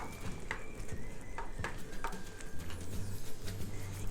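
Spoon scraping and clinking against a pot while cilantro is stirred into a thick meat sauce, several sharp metallic taps spread irregularly over a low bubbling background.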